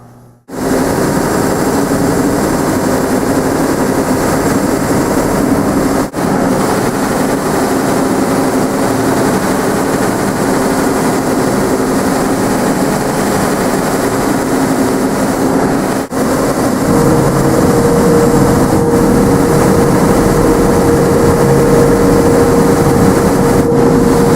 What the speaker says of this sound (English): you continue sanding one pass at a time until you bring it down to your required thickness